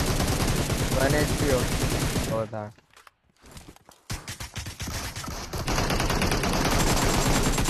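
Rapid video game gunfire in loud, dense bursts, stopping briefly into near silence before the shooting resumes, with a voice talking over parts of it.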